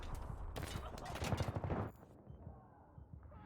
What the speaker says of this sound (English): So hard to use these goddamn snipers.